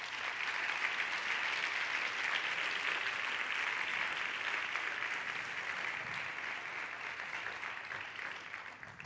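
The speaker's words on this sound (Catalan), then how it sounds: "un fort aplaudiment per ells" An audience at a public prize event applauds in a long, sustained wash of clapping that stays fairly even, then tapers slightly toward the end.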